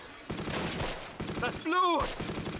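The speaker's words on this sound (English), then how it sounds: "That sniper's having a pop at them though." Gunfire in the WWII strategy game Close Combat: Last Stand Arnhem, with bursts of crackling shots and sustained battle noise running through, a sniper's rifle among the exchange, under a mix of other sounds.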